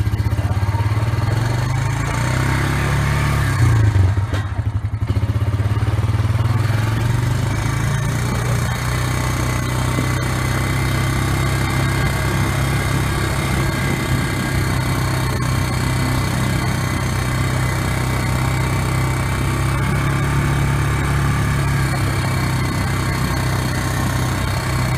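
A 2005 Honda Rancher ATV engine runs steadily in first gear, a continuous, loud, low rumble with rattling and clatter and little change in pitch throughout.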